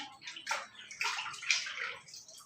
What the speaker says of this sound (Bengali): চলো ফটাফট এখন মাংসটা ধুয়ে নিই